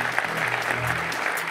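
Audience applause for speakers at a televised French architecture event, a steady, dense wash of clapping from a large crowd that fills the whole moment without a break.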